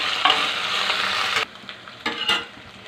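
Ginger paste sizzling and frying in oil in a pan, a steady bright hiss with stirring scrapes, the sizzle dropping off partway and returning in short bursts as it is stirred.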